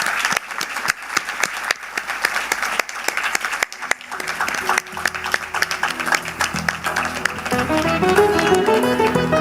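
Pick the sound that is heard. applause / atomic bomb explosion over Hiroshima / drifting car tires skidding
applause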